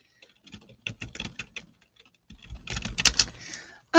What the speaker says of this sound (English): Oh, I gotta type this in here.